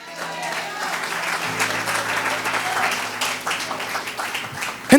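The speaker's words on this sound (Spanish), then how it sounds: "¿Cuánto le dan un fuerte aplauso al Señor?" A congregation in a church service breaks into sustained, dense applause that fills the room evenly for several seconds.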